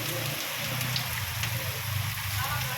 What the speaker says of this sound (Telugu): వర్షం బాగా ఎంత హెవీగా పడుతుందో